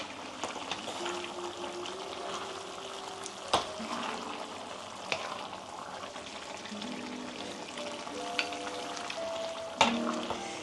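Thai green beef curry bubbling and sizzling in a pot after fish sauce is added, a steady close simmer with occasional stirring clinks and knocks.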